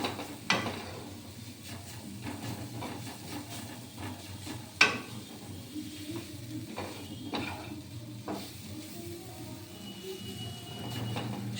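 Carrot sandesh mixture with semolina frying in a pan, a low steady sizzle with occasional sharp scrapes and taps of a spatula stirring, close and fairly quiet.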